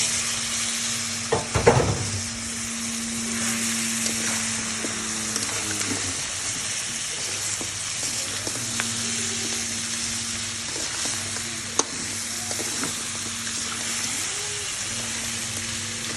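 Crab frying in a pan with crab brain (roe) added gives a steady, soft sizzle, with brief stirring scrapes and a louder clatter near the start, and no voices.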